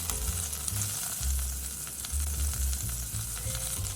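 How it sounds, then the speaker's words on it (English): Diced onion fries in a teaspoon of butter in an unwashed pot, giving a steady close sizzle with light stirring scrapes and no voices. "Add 1 teaspoon of butter to the same pot without washing it. Add the diced onion."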